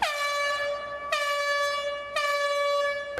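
Warning horn sounding ahead of an air blow on the turbine deck at Dry Fork Station, three loud, sustained tonal blasts in even succession, each cutting in sharply, heard alone without talk.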